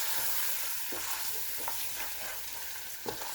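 Spices fry with mutton in a pot, giving a soft, dense sizzle broken by a few quiet stirring scrapes and clicks, close but faint with no talk.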